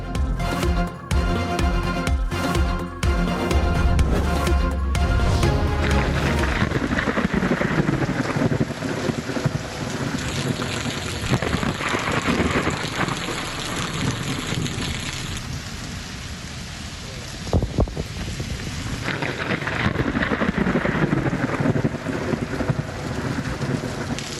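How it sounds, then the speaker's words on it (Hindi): Heavy early-morning thunderstorm over Rawalpindi and Islamabad, with a dense, steady roar of pouring rain and wind buffeting close by, and low thunder rumbling beneath the downpour throughout. "रावलपिंडी, इस्लामाबाद में सुबह सवेरे गरज चमक के साथ तूफानी बारिश और यालाबारी।"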